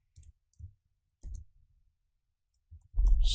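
Computer keyboard typing while coding an if statement, heard as a few short separate clicks that grow into a denser, louder burst of keystrokes at the end.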